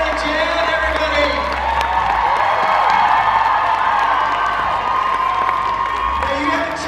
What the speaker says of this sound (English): give a huge round of applause for Jared and Jen